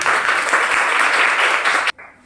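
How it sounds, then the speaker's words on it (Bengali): Children applaud loudly together in a fifth-grade classroom during a maths lesson, a steady burst of clapping lasting about two seconds before cutting off abruptly into quiet room sound. "সুন্দর বলেছে তার জন্য একটা জোরে হাততালি"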